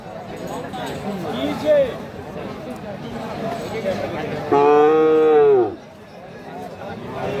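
Cattle at a livestock market selling Friesian and crossbred bull calves give one loud, drawn-out moo of about a second, close by, with market chatter and speech running underneath throughout.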